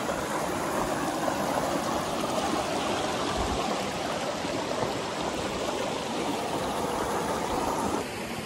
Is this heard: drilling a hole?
no